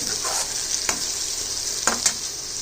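Ground vegetable peel paste frying in hot oil, a continuous bright sizzle broken by a few sharp stirring scrapes, moderately quiet and heard alone without speech.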